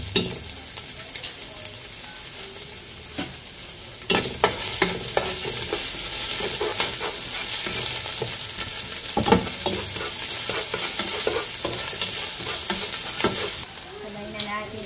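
Ingredients being sautéed in a hot pan while cooking giant mud crab, a constant loud sizzle broken by clattering stirs and scrapes of a utensil against the pan, then a quieter hiss at the end.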